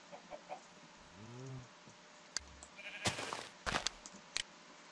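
A sheep in the Minecraft video game gives a short wavering bleat, followed by scattered clicks and brief noisy bursts from in-game action, all fairly faint over a steady background hiss.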